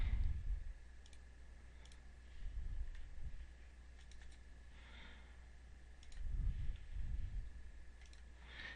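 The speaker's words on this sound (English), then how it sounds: "I'll click on it and click Open" A computer mouse clicks a few times, crisp and close, in small clusters of single and double clicks over a quiet room hiss with faint breathing.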